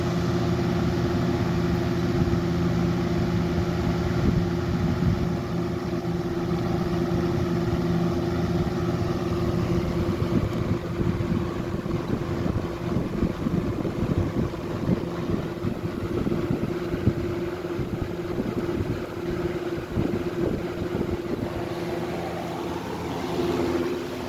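A 1995 Lakewood model 200/I box fan running on high, giving a steady close whooshing drone with a low motor hum and fluttering air turbulence throughout.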